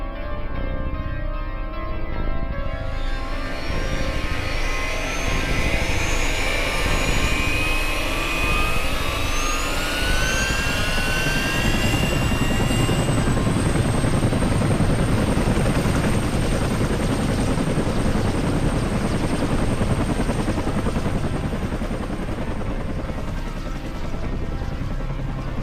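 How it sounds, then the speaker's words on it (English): A helicopter in a classic survival-horror video game spools up, its turbine whine rising over several seconds into a steady loud rotor roar that keeps going without pause. "Fire up the chopper."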